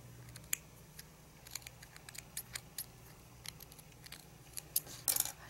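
Small clipping cuts into the seam allowance of a knit fabric blouse, a quiet, close series of sharp scissor snips at an uneven pace, bunching into a quick flurry at the end.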